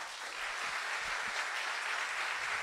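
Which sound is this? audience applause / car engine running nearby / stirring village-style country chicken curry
audience applause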